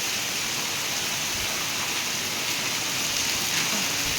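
Heavy rain pours down in a dense, continuous hiss, steady and loud throughout with no voices.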